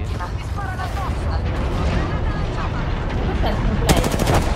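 Rapid bursts of gunfire crackle through a dense, noisy Apex Legends soundscape, with a sharp volley near the end and voices murmuring underneath.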